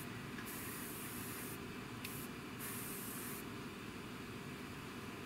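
A continuous hissing spray of semi-gloss coat from a paint sprayer onto a Tamiya P-47M scale model, steady and close, pausing briefly a few times before resuming.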